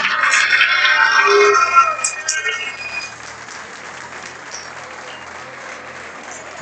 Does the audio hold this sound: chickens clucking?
no